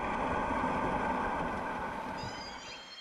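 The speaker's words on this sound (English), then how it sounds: "To us, a ship sounds like this." A ship heard from above the water on the Salish Sea gives a steady broadband engine rumble and wash, with faint high tonal whines emerging near the end, continuous and moderately distant without speech.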